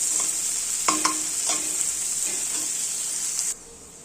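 Chopped onion dropped into hot oil with tempered spices, sizzling steadily in a pan while a spatula scrapes and stirs in a few quick strokes, close and alone before the hiss abruptly drops.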